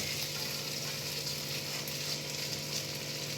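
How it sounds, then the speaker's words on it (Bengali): Flattened rice (chira) frying in ghee in a pan, a steady, dense, close sizzle that holds evenly throughout without pauses or talking. "চিড়েটা একটু ঘি দিয়ে ভাজব"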